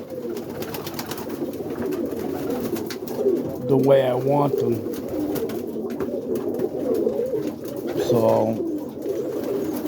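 Boston ripping roller pigeons cooing in a loft, two low rolling coos standing out over a steady din of birds, with someone talking briefly nearby.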